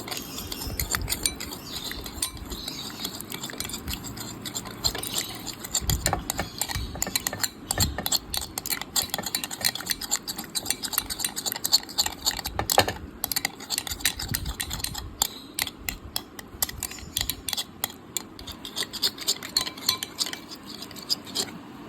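A spoon beats a batter of chilli and gram flour in a bowl, with rapid, steady clinking and scraping that runs continuously at close range, with no talking.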